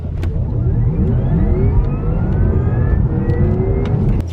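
A Porsche Taycan Turbo launches hard from a standstill without launch control, its electric motor whine rising steadily in pitch as it accelerates, loud and continuous over road and tyre rumble, with no talking.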